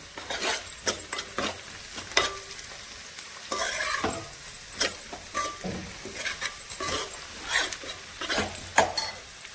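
Onion and green chili pieces fry in a pan for a cucumber curry, with repeated scraping strokes of a spatula against the metal over a lighter sizzle, the stirring coming in irregular bursts up close.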